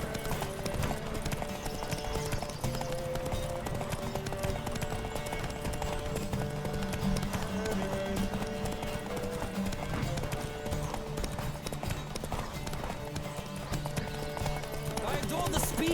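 Galloping horse hooves pound steadily through a Witcher 3 horse race, layered with in-game music and ambience and joined by a voice talking over the run.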